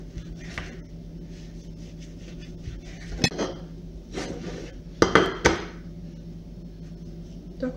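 Sharp knife strokes cutting through a lavash roll filled with salmon, sliced into thick pieces on a board, giving a few scattered soft cuts and then louder crisp chops near the end, close up and without talking.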